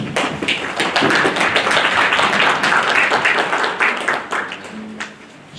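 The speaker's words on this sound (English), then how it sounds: "A round of applause for these young people." Dense audience applause at a JROTC commissioning ceremony, many hands clapping steadily and loudly in a hall before gradually thinning out toward the end.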